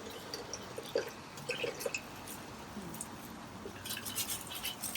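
Water pours and drips into a container of homemade nut milk, with light splashing and a few clinks of kitchenware, close and moderately loud with no talking.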